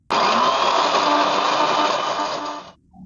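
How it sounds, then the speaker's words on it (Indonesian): An electric blender runs steadily for about two and a half seconds, grinding spice paste for a spicy fish soup in a home kitchen with a loud, even whir that then cuts off. "Kita langsung aja blender ini ya, dulu bumbunya."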